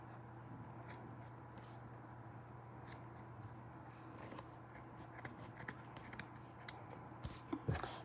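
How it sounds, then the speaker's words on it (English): Scissors cut felt for masks in a quiet room with a steady low hum. The snips come as sparse, soft repeated clicks that grow a little louder and busier near the end, with no talking. "let me finish cutting"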